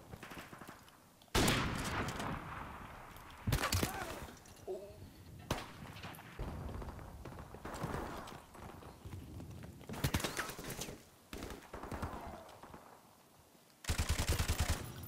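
Bursts of automatic gunfire in Modern Warfare Remastered free-for-all play, with several loud rapid volleys separated by quieter stretches of in-game ambience and movement.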